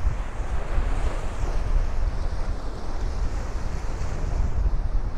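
A cold sea breeze buffets the microphone on foggy 4th Avenue in Bay Ridge, Brooklyn, giving loud continuous low rumbling wind noise that roars steadily throughout with no talk.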